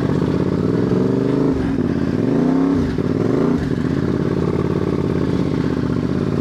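A CFMOTO 450MT motorcycle rides an alpine off-road trail, its engine droning loudly up close and rising and falling in pitch through a couple of revs, with clattering from the rough ground.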